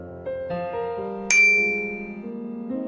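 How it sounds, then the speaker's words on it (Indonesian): Phone message notification in an animated story, a bright high chime that rings out and fades over a soft melodic music background, with no talk. "Notif satu pesan belum terbaca."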